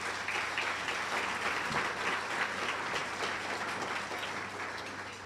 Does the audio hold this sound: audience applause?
yes